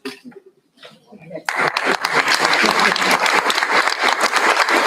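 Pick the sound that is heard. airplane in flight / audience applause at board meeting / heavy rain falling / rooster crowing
audience applause at board meeting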